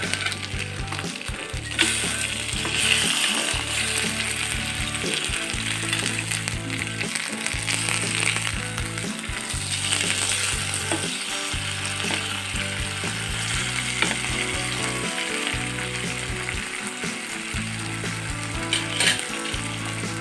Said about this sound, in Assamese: এতিয়া মই মাছখিনি ফ্ৰাই কৰি লৈছোঁ